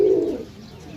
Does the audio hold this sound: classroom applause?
no